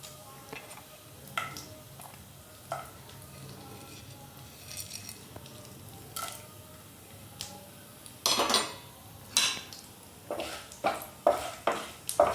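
Whole spices, a bay leaf, cardamom pods, black peppercorns and a cinnamon piece, roasting in oil in a pan, heard as soft sizzling with repeated clinks and scrapes of a utensil against the pan, growing busier toward the end.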